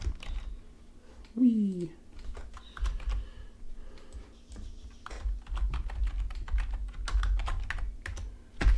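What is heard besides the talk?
typing on a computer keyboard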